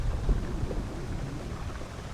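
Pouring rain at a camp in the Lake District, a dense, steady wash of downpour with low rumbling, close and continuous, with no voices.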